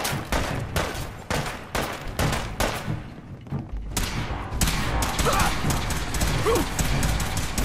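Fallout 4 firefight: dense, loud gunfire crackles in rapid bursts and sustained volleys amid thuds and game effects, with a short lull midway before the shooting swells again.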